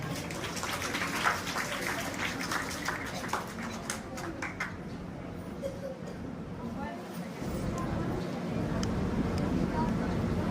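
An audience at a school prize ceremony and result distribution claps in a steady patter of applause, which grows a little fuller near the end. Someone speaks over it at times.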